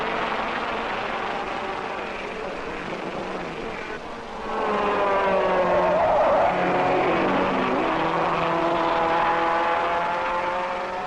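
A 1961 Monaco Grand Prix race car pulls out onto a lap, its engine rising from a distant drone into a louder, climbing whine with shifting pitch as it draws nearer and moves off.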